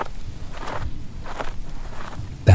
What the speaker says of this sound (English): I heard footsteps move around the house again,